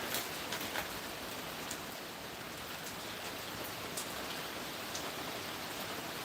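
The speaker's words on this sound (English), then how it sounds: "I love the sound of rain." Steady rain falls on a desert homestead, a dense, even hiss with scattered louder drop impacts throughout, no voices heard.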